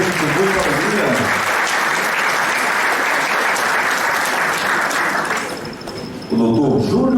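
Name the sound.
audience applause for an honoree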